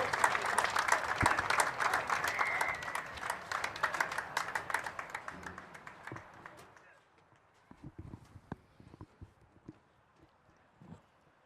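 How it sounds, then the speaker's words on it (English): Crowd applause for senior members of the La Salle College High School football program, dense and sustained for several seconds with a voice over it, then thinning to scattered claps and bumps before fading out. "Let's have a big round of applause for the senior members of the football program here at LaSalle College High School."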